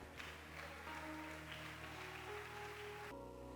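A church congregation applauds in sustained, dense clapping over a soft held keyboard chord, then the clapping stops abruptly near the end while the music carries on.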